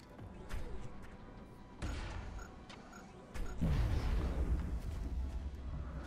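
A grenade detonating during a turn-based XCOM Long War tactical battle: a few sharp blasts, one at the start and another near the two-second mark, then a louder explosion with a lingering rumbling tail, all fairly faint.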